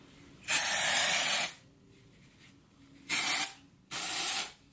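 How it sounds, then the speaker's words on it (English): Pantene dry shampoo sprayed from an aerosol can onto hair roots: one long hiss, then two shorter bursts after a pause, close and clear, with no voices. "So you just spray on the roots and you blend it out"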